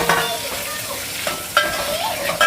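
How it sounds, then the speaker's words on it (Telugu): Curry leaves, garlic and cumin frying in a pan for a chili snack stall: a steady close sizzle with occasional scraping stir strokes, no talking. "వీటిని అయితే ఇక మంచిగా ఫ్రై చేసేసుకుంటున్నాను."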